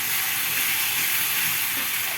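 Garlic frying in a pan for an egg curry gives a continuous bright sizzle and hiss, steady and close, with no voices over it.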